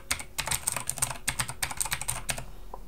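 Rapid clicking keystrokes on a Razer BlackWidow mechanical keyboard, close and fairly loud, arriving in quick bursts with a short pause near the middle and a lone final click.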